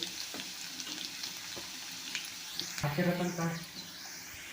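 Garlic fries in ghee in a pan with a close, steady sizzle. Light stirring clicks come through, and a brief louder hiss and bubble near the middle settles back to a gentle fry.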